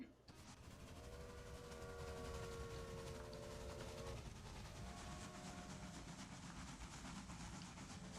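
A train in the video game Railway Empire rumbles steadily along with a low engine drone and faint tonal hum, continuous and moderately distant.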